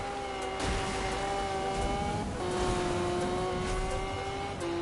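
Race cars in a racing video game, with steady engine whines holding sustained tones and several cars droning together at a constant loud level, shifting slightly midway as they jostle.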